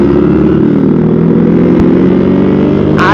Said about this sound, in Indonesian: susah banget nih motor jalannya